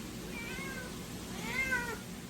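A matted, elderly domestic longhair female brown patch tabby cat meows twice during a lion cut grooming, short plaintive calls heard over a steady hum of clippers or a dryer.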